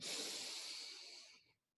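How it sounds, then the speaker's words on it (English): One long, steady breath drawn in through the nose, close and soft with an airy hiss, lasting about a second and a half before fading into silence. "Another nice deep breath in that way."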